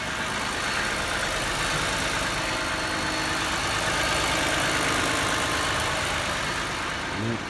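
A Toyota Sienna engine idles steadily while warming up, giving a constant, even hum with no changes in pitch, heard nearby and on its own.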